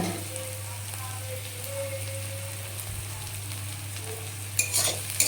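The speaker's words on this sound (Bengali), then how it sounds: "দেখো, আমি এখন পেঁয়াজগুলো ভেজে নেব।" Onions frying in a pan for a Bombay duck fish chorchori give a continuous close sizzle, steady and even throughout, with a few brighter crackles and light stirring knocks toward the end.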